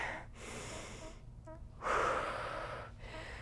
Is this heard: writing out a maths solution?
no